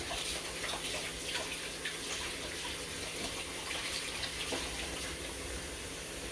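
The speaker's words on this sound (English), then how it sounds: "And I'm going to wash my hands again" Tap water runs steadily into a sink while hands are washed during cake decorating, a faint continuous splashing hiss with no talk.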